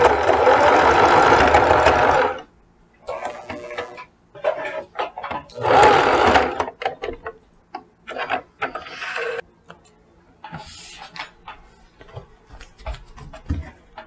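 A sewing machine stitches slowly around the waistband of a pair of shorts, with the presser foot lowered. It runs in loud close bursts of whirring, broken by quiet gaps filled with fabric handling and small clicks.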